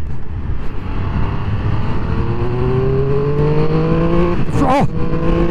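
A 2021 Triumph Speed Triple 1200 RS motorcycle pulls hard with its engine note climbing steadily, loud and close, then a quick gearshift blip near the end before it keeps accelerating.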